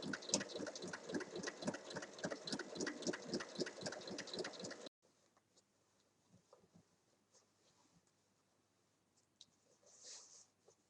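A sewing machine runs a fast, even stitch around the edge of a small fabric pouch for about five seconds. It then stops and leaves near-silence with a few faint handling sounds.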